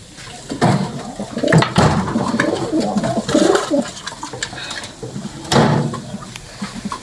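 Pigeons in a loft coo repeatedly at close range, with wing flutters and scuffling. A clattering, door-like knock rises in the middle of the busy bird sounds.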